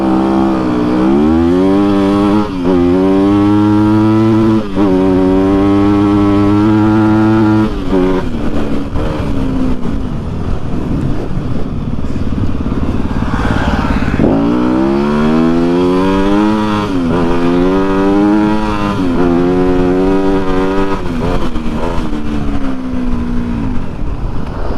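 A Kove 450 Rally and a Yamaha WR250F drag race side by side, loud close engines revving up through the gears in two runs, with rising, buzzing pitch, a brief drop between shifts, and a roar that stays loud throughout.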